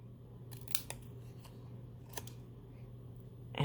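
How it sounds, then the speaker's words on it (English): Scissors snipping through a paper banner in crafting: a few close, crisp cuts spaced apart over a quiet background hum. "I'm just going to cut right in the middle"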